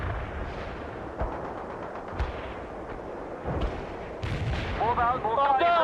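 Artillery in the strategy game World in Conflict fires repeated heavy booms and rumbling blasts in close succession. Faint radio-style voices sound beneath the barrage, which grows denser toward the end.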